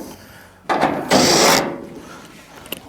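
Metal screws backed out of a clothes dryer's rear panel, heard as a few close scraping, rasping bursts with a longer grinding stretch in the middle, then quieter handling noises; no talking.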